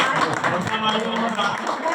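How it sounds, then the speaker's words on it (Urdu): An audience claps together through a religious address given on Republic Day, a dense, steady patter of hands that stays fairly loud for the whole stretch with a voice mixed in. "تالیاں بجاؤ۔"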